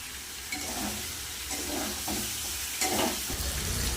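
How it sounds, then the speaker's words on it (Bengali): Spice masala for a spicy potato curry (aloo dum) is being sautéed in oil until the oil separates, with a continuous close sizzle broken by rhythmic scraping stirs of the spoon. "দমের মশলা কিন্তু ভালো করে কষিয়ে নিচ্ছি মশলা থেকে তেলও ছেড়ে দিয়েছে"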